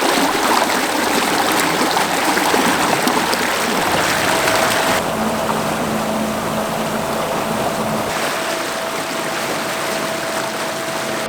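An 86-pound-thrust electric trolling motor on a boat whirs steadily under rushing, churning water, a constant hiss with a faint tonal whine throughout.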